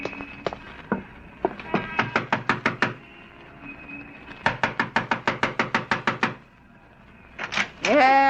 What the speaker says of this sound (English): Yeah, stop your knocking.